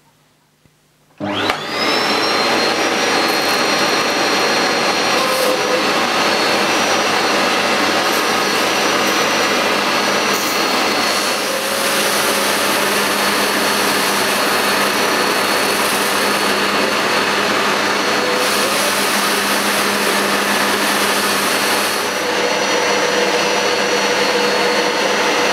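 A Bissell Powerwash Deluxe upright carpet washer switches on and its suction motor roars steadily and loudly at close range, holding a constant high-pitched whine with slight shifts in tone and no talking.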